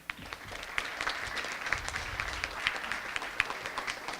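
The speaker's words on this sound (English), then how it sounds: "round of applause to all of you" An audience claps at a pitch competition, a steady wash of many hands with sharper individual claps popping out, moderately loud and continuous throughout.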